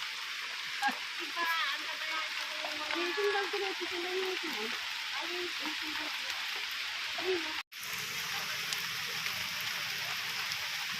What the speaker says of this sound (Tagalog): nag, uulan po, inaabot po tayo ng ulan.